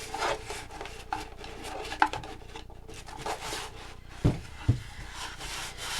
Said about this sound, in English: So this is just an old piece of t-shirt that I use for my waxing. And so I'm just going to rub all this wax in.